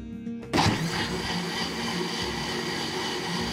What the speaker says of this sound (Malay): Kisar sampai betul-betul halus.